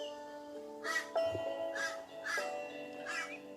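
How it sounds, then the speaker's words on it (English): Several crows caw in four spaced, hoarse calls, fairly close and clear over a quiet background, with no talking. "Hello, crows."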